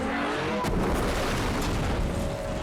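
A sudden deep explosion boom on a film set at a freeway location cuts through, followed by a rolling low rumble that lingers under steady background noise.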